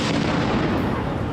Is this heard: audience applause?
no